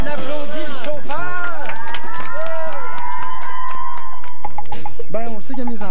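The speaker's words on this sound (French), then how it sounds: "On applaudit le chauffeur!" A small crowd on a French-Canadian television outing applauds and cheers for the driver, with lively clapping mixed with excited voices and speech-like babble over the top.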